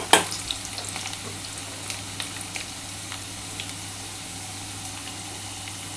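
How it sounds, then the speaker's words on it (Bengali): Diced potatoes sizzle steadily in hot oil in a pan as turmeric and salt go in, with soft scraping stirs and small clinks over a constant close frying hiss, no talking. "আমার আলুটা ভাজা মোটামুটি হয়ে গেছে। এবার এর মধ্যে আমি হলুদ দিচ্ছি"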